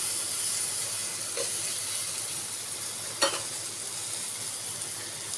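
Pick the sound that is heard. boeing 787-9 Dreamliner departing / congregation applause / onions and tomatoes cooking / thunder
onions and tomatoes cooking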